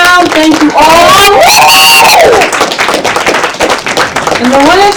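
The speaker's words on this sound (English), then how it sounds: "So let's give everybody another round." Applause and clapping fill the room at a poetry slam as the crowd claps for the competitors, with loud, close voices and cheering running over it.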